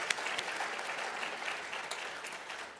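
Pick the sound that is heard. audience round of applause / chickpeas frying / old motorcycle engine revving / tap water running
audience round of applause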